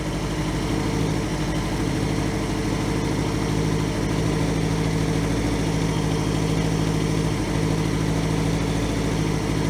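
A 1982 Honda GL1100 Goldwing motorcycle engine idles steadily after a single-carburetor conversion, a close, even low rumble holding constant for the whole stretch with no talk over it.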